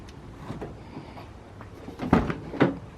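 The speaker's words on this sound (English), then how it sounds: "Let me go ahead and open up this trunk" Trunk of an AWD EK sedan being opened: a low rustle, then two solid mechanical clunks close by, near the end of the short stretch.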